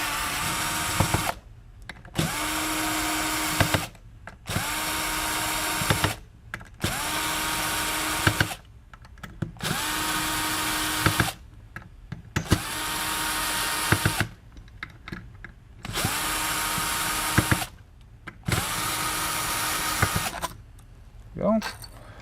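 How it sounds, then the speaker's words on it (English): A power driver unscrews fasteners from the FET bar of a MidNite Solar Classic charge controller, whirring in about nine short bursts separated by brief pauses, loud and close with faint ratcheting clicks between runs. "get our power driver, and remove all the screws on the FET bar"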